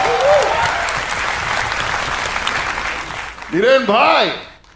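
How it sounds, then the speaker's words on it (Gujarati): A live audience at a comedy talk show gives loud, sustained applause for writer Niren Bhatt, and a voice rises over the clapping near the end before it fades out. "તાળીઓ થઈ જાય એમના માટે"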